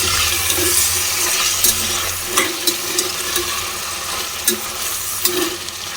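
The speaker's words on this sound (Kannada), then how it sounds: "ಒಂದು 2 to 3 ಮಿನಿಟ್ಸ್ ಇದೇ ರೀತಿ ಫ್ರೈ ಆಗಬೇಕು" Mixed vegetables for a vegetable pulao fry in a pan, a steady sizzle running throughout, broken by scraping stirs and several sharp clinks of a spoon against the pan.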